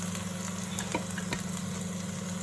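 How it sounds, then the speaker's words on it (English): A mixture of onion, garlic and ginger fries in a pan for chicken korma, a soft steady sizzle with a low hum beneath and a few scraping stirs from a silicone spatula. "pour in the onion, garlic and ginger mixture. And we're going to give that a stir"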